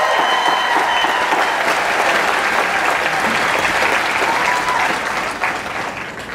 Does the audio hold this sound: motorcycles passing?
no